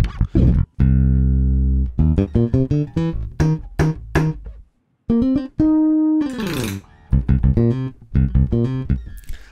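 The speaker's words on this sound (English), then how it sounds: "I think this is a really, really good sounding bass." A deep sampled bass synthesizer plays a series of punchy notes, some short and plucky, others sustained, with bright harmonic tones and brief silent gaps.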